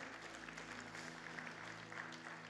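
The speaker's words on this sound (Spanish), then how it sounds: "Denle un fuerte aplauso al Señor" A church congregation claps loudly and steadily, a dense continuous applause filling the room with no single voice standing out.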